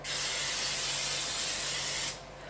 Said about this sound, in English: I'm going to spray my little pan here first